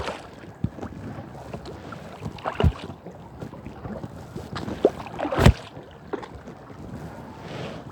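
Kayak paddling on the Wilts and Berks canal, with irregular paddle splashes and drips close by over light wind noise on the microphone, several sharper strokes standing out.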